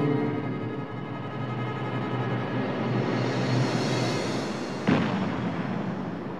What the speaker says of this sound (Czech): Dělo z pevnosti IF.